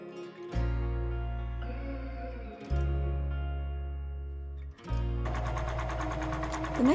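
A sewing machine stitches a pocket onto a double gauze shirt in three steady motor runs with brief stops between them, with a brighter rattle of fabric at the end.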